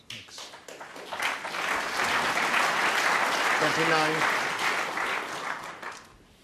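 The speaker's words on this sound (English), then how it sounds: "Round of applause from the crowd because that was a frame ball" Snooker crowd at a World Championship match bursts into sustained applause after a frame ball, the clapping swelling quickly and holding steady before tapering off, with a voice briefly speaking over it.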